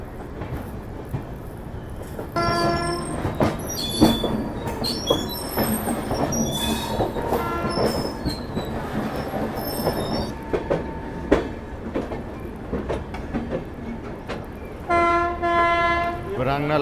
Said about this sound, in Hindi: मालगाड़ी के साथ हो रही है पैरेलल एंट्री।